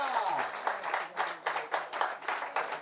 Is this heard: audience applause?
yes